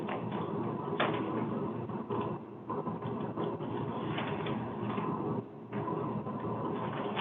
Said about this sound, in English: Air conditioner's running right now.